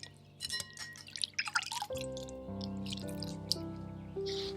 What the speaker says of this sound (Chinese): 咱们清洗干净后捞出控水